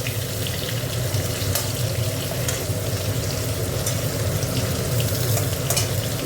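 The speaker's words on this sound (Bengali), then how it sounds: "আলুগুলো একটু ভাজা। দেখো আলুটা ভাজা হয়ে গেছে" Potatoes fry in a pan with a steady, dense sizzle and crackle that holds evenly throughout, close and fairly loud, with faint stirring scrapes mixed in and no one speaking.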